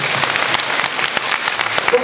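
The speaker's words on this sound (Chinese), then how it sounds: "咱们大家掌声恭喜一下" An audience applauds the mock wedding of four grooms at a tourist village show in Zhangjiajie, a dense burst of clapping with no talk on top.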